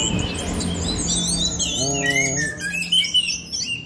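An orange-headed thrush (anis kembang) of the Ladia ring line sings from recorded playback, with bright chirps and warbled phrases over a low background hum.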